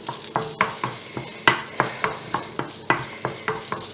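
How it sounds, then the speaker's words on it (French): Bolognese sauce being stirred and fried in hot oil in a pan: a steady run of a dozen distinct utensil scrapes and clacks at an even rhythm over a constant close sizzle, with no voices. "Allez, on remue,"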